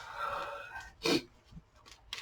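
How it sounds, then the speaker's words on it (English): A single sharp sneeze bursts out close by in a quiet room during a doodling and line-work art session, preceded by a faint voice and followed by soft breathing. "Sorry, I'm going to sneeze."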